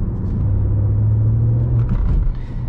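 A turbocharged BMW 1M engine pulls under acceleration as a steady, loud low drone from inside the car, holding a constant note for most of the stretch before easing off near the end.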